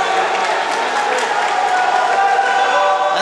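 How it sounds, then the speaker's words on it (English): A football semi-final crowd roars in cheers and applause, a dense, loud, sustained wall of stadium noise with no breaks. "the crowd has erupted here"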